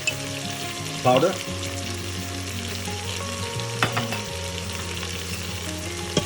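Chili and coriander powder sizzling as they fry in a pan for a dal chicken curry, a steady close crackle with a few stirring scrapes and a brief clatter, under faint background tones.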